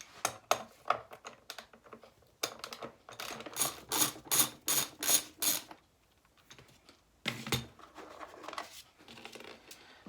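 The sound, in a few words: removing T20 Torx screws from caravan motor mover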